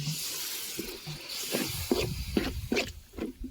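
A steady hiss and sizzle from water poured into a hot pan of masala for stingray fish curry, with soft bubbling pops building toward the end.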